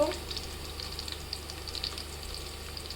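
Ginger and garlic sizzling in hot oil with onions for chicken biryani in a home kitchen, a steady close frying hiss with small pops and occasional stirring, and faint background hum.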